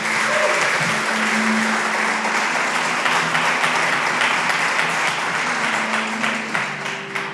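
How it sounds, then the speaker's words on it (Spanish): A church congregation breaks into sustained, loud applause, dense clapping that holds steady throughout with a faint hum underneath and no clear speech. "Dale un fuerte aplauso al Señor."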